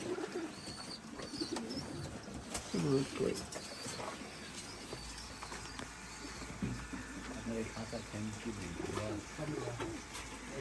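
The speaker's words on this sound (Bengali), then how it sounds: "পাকিস্তানি কবুতর ওখানে প্রায় অনেকগুলো আছে" Pakistani flying pigeons coo in a loft, soft throaty rolling calls repeating among a flock, with a voice speaking nearby and light rustling and clatter in the background.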